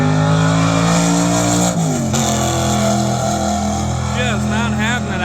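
Drag racing car at Milan revving hard at the line and launching, a loud, sustained engine roar with a pitch drop near two seconds, while an announcer talks over it throughout.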